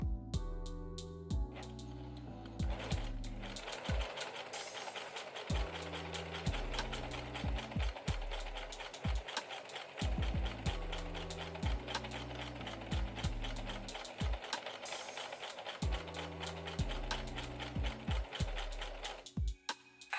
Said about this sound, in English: I'm going to sew like a straight stitch just to attach them together